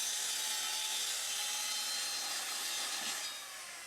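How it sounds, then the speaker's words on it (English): A hand saw cuts through wooden floor sections inside a box van, a steady, loud, continuous rasping stroke that fades slightly toward the end. "Cutting the sections for the floor back here."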